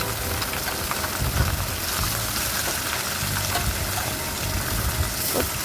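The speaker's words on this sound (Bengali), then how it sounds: "তেলটা হালকা গরম হয়ে আসলে মাছগুলো ছেড়ে দেব।" Pieces of rohu fish frying in hot oil in a wok, a constant close crackling sizzle with soft bubbling pops throughout, loud and unbroken with no talk.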